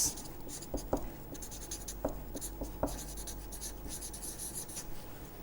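Pen or pencil sketching by hand on paper, quiet scratchy strokes with several small taps, close and faint, no speech.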